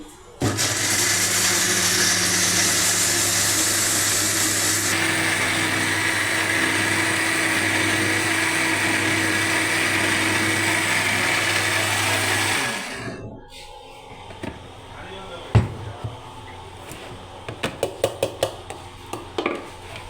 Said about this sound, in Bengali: এখন আমি আদা রসুন ব্লেন্ডার করে নিচ্ছি